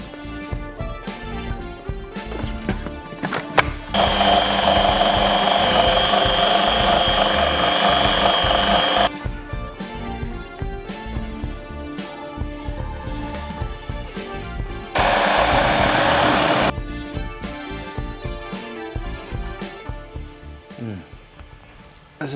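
A food processor blends cooked chickpeas with oil for hummus. Its motor whirs loudly in two bursts, a longer one of about five seconds and then a short one, with quieter background sound between them.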